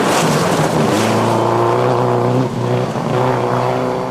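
Subaru rally car charging through a stage at Rally Australia, its engine note rising and falling through gear changes, loud and close, with no talk.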